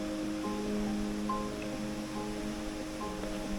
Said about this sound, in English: What we can hear is a waterfall